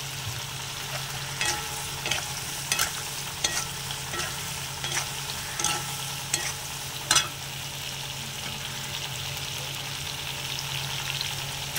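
Nigella seeds sizzle in hot oil with fried prawns while a spoon stirs and scrapes the pan in repeated strokes, close and steady with no talk.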